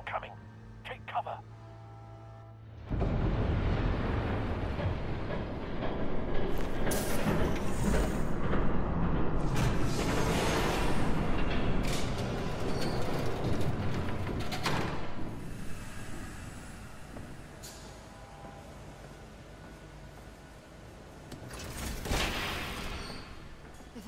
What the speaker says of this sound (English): There's a train coming. Take cover.